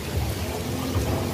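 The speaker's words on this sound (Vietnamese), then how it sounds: "Mưa." Rain falls at the Dai Nam amusement park as a dense, continuous wash of drops with low rumbling underneath, close and steady throughout with no voices.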